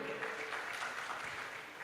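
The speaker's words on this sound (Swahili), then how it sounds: "Makofi kwa hilo." Audience applause at a women's leadership summit and gala, a short, dense burst of clapping that stays fairly soft and steady throughout.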